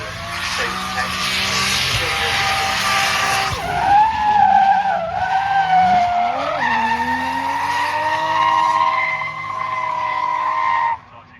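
A drift car at the Tunerfest North drift event skids through a slide, tires squealing in long wavering tones over a loud engine that rises and falls, close and sustained before cutting off abruptly.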